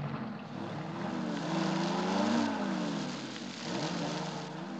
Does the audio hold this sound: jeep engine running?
yes